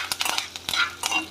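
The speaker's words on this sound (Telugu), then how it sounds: "పోపు దినుసులు వేసుకుందాం. ఆవాలు, మెంతులు, జీలకర్ర, ఎండుమిర్చి, శనగపప్పు" Mustard seeds, fenugreek, cumin, dried chillies and chana dal frying in hot oil for a tempering, with sharp sizzling crackles and a few stirring scrapes in a pan, close and with no voices.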